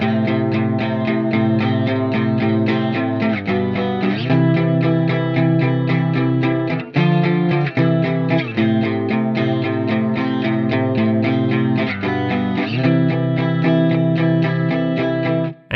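Guitar strums an emo chord progression in spread voicings through distortion and chorus effects, each chord ringing fully and changing every few seconds, loud and close, with no voices.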